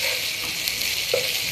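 Ginger garlic paste, cinnamon and cloves fry in a pan for chicken sherwa, making a brief steady hissing sizzle with a faint stir or two.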